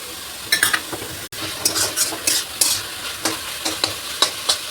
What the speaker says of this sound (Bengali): একটু জাস্ট মশলাগুলো আমি মিশিয়ে নিই